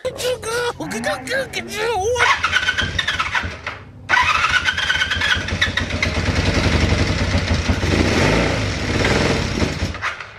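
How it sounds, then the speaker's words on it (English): A cheap used motorcycle, primed with starting fluid, cranks and then catches, running roughly and loudly close by after a short gap, with people talking over the first seconds. "now it's time for some starting fluid to see if she'll fire"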